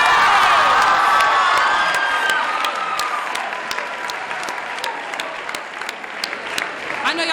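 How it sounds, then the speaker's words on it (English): A school audience at a Black History Month celebration breaks into loud, sustained applause with cheers and whoops. The clapping stays dense throughout, with scattered shouts over it. "Let's give them one more round of applause"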